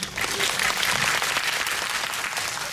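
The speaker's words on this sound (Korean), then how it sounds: "박수 부탁드립니다." A cinema audience at a film screening Q&A applauds with steady, dense clapping that fills the room, loud and continuous throughout with no pause.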